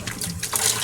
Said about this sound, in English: put cold water in here so I don't shock them